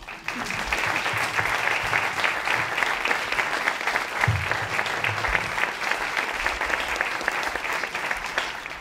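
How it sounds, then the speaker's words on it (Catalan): Sustained, dense applause from a crowd at a commemorative ceremony, steady and loud for several seconds without letting up. "Jo crec que podem fer un aplaudiment com a parèntesi."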